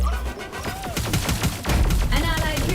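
Dense rapid gunfire in the Marvel Super War mobile game, a loud continuous fusillade of shots and impacts with game effects layered over it throughout.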